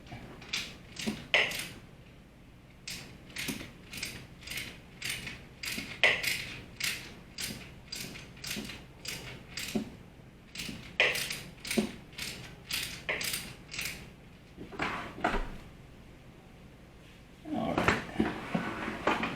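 A wrench ratchets a tight oil drain bolt loose on a Royal Enfield Continental GT 650, giving a steady run of crisp, close clicks in rhythmic bursts, with a brief pause and a louder fumbling at the end.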